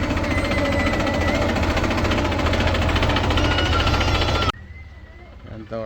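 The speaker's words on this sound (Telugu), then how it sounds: "ట్రాక్టర్లు ఎంజాయ్ చేపిస్తున్నాడు" A tractor runs at a children's vehicle estate with a steady, loud, throbbing rumble for several seconds, then cuts out abruptly, leaving quieter sounds behind.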